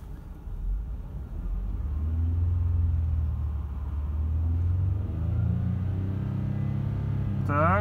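A Lexus RX engine running on an LPG system idles and then climbs in revs in a low, steady rumble held fairly close, with a voice speaking briefly at the end.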